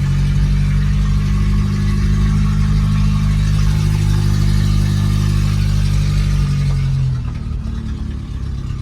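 An Opel car engine runs steadily at a loud, close idle after a carburetor repair, a continuous low rumble that drops away near the end with no talking.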